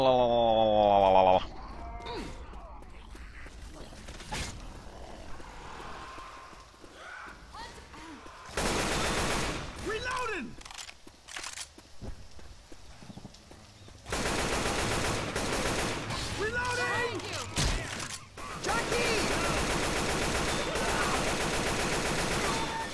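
Rapid bursts of gunfire from Left 4 Dead 2, loud and close, break out in clusters with a voice talking between and over the shots.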